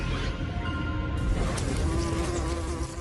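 A wasp buzzes steadily and loudly close up while fighting a praying mantis. The droning whine holds for three seconds with slight shifts in pitch, over a dense background rumble.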